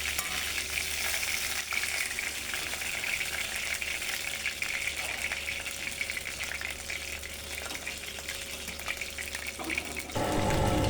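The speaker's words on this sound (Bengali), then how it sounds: "এখন খুব ভালোভাবে এভাবে লাল করে ভেজে নিতে হবে" Fish coated in turmeric, chili powder and salt fries in oil, a steady hiss and crackle for about ten seconds that shifts toward a brighter, louder splashing sound at the end.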